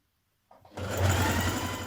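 A sewing machine starts up after a moment of silence and stitches a dress seam allowance, a steady close motor whir running on alone.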